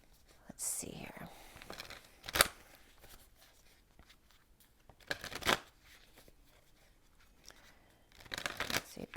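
A deck of oracle cards being shuffled in short riffling bursts separated by quiet gaps, close up, with soft speech between them.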